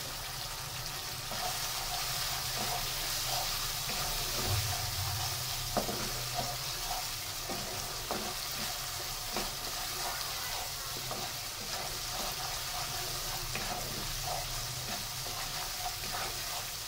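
Spice paste frying in mustard oil for a mustard hilsa dish makes a steady, close crackling sizzle throughout, with scattered clicks and scrapes from stirring.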